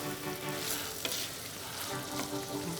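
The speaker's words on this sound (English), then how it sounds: "we'll stir that for a couple more minutes, then we'll make our next addition" Spaghetti bolognese sauce sizzles steadily in a pan while it is stirred, a continuous close frying hiss with faint scraping, heard without speech.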